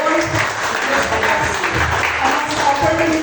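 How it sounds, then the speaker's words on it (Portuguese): A church congregation applauds while sitting down, a dense patter of clapping filling the room, with people's voices mixed into it. "Pode sentar aplaudindo ao Senhor."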